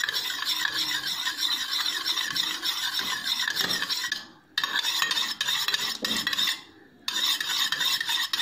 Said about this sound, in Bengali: এবার আমি ভালো করে তেলটাকে মিশিয়ে নিচ্ছি আমলকির রসের সাথে।